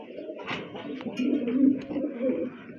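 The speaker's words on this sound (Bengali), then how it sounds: "এখানে কিন্তু আরেক জোড়া কবুতর আছে" Pigeons coo in low, soft, repeated rolling calls close by, with a few faint chirps and rustles mixed in.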